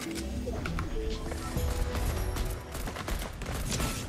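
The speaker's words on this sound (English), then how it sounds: "Oh, I'm getting shot up from behind me." Gunfire in the Fortnite battle royale game, a rapid burst of shots with clattering impacts and mechanical clicks, moderately loud within busy game sound and under faint talk.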